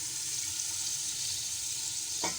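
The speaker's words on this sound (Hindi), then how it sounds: "थोड़ी सी भुनाई करेंगे इसके चिकन डाल के, सारे मसाला डाल के" Chicken fries with spices and lentils in a pot, giving a faint, steady sizzling hiss close by. A single soft clink sounds just before the end.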